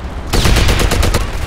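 Anti-aircraft guns fire in the World War II shooter Medal of Honor: Allied Assault, a rapid burst of loud, heavy reports in quick succession that starts abruptly and carries on to the end.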